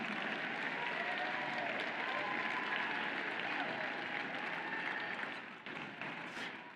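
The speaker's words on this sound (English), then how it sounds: "Please, let's give a huge round of applause to each and every one of you" Sustained applause from a large crowd at a FIRST robotics New England district event at UNH, a steady loud wash of clapping through most of the span that eases slightly near the end, with no voices over it.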